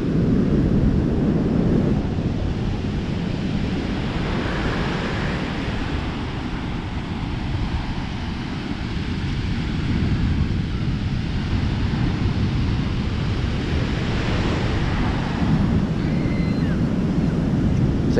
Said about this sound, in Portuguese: Mar revolto aqui em Copacabana. Olha só que coisa linda. Umas ondas enormes